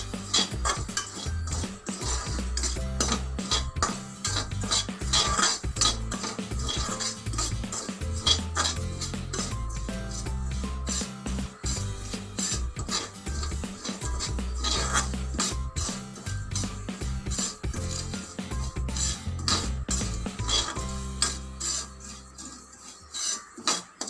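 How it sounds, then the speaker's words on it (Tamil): Semolina dry-roasts in a pan while a spatula stirs it constantly, giving a busy, loud run of gritty scrapes and metallic clatter close by for a long stretch that fades out at the end, with no speech. "நல்லா சவக்க வறுக்கணும்"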